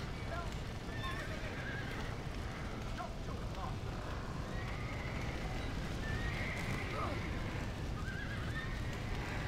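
Horses whinny and neigh in Red Dead Redemption during a storm, over a dense, rumbling background with hoofbeats, all fairly distant and continuous.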